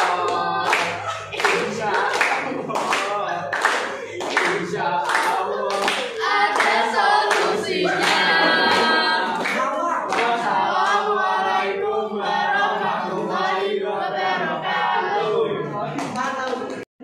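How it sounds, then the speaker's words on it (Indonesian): A class of high school students applauds together after a presentation, a dense run of hand claps with a few shouts and voices mixed in that carries on for many seconds before stopping abruptly. "mari kita tepuk tangan seperti tadi yang sama"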